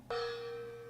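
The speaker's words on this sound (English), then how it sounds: "Are you gonna hit the gong?" A single struck metal gong at a parent meeting rings out close and loud with a sharp attack, then holds a long, steady, shimmering sustain with no voices.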